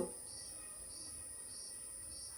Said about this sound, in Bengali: এখানে ঝিঝি পোকারা এত অ্যাক্টিভ, ওদের কি বলছিল অ্যাম্পলিফায়ার আছে ওদের গলায়, আওয়াজ পাচ্ছ?